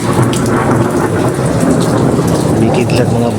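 A thunderstorm with heavy rain pouring steadily and low thunder rumbling beneath it, loud and close throughout with no talking.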